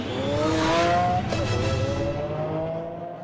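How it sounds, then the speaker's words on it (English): A Lamborghini Aventador prototype from 2008 runs on a test track, its engine giving a loud, sustained drone with steady harmonic pitch that shifts slightly and eases off toward the end. "the prototype model takes to the track to be put through its paces for the first time"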